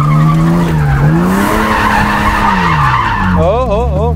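A drift car skidding with a sustained loud tire squeal and a whining engine that rises and falls, close by, with people's voices mixed in.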